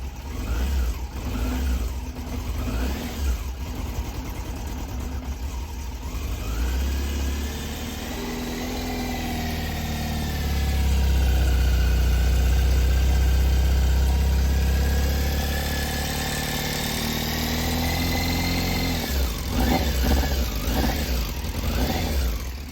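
A Yamaha Fazer 600 motorcycle engine idles nearby with a loose mechanical rattle, its rumble swelling briefly midway as the revs rise, then settling back.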